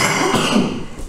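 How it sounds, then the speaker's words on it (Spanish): A short burst of coughing and phlegmy throat clearing, loud and close, lasting about a second. "Las toses, las flemas y todo."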